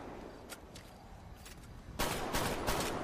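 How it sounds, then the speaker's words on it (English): Rapid bursts of gunfire in GTA V NoPixel roleplay, scattered shots at first, then a loud dense volley of shots from about two seconds on. "I just got shot at."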